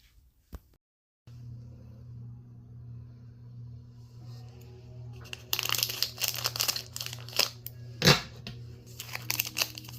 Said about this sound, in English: I'm gonna cut open this air dry clay and get some out.